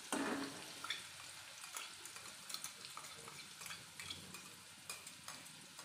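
Green chilli and garlic paste frying in oil for a village-style spinach dish, giving a steady close sizzle with scraping stir strokes throughout.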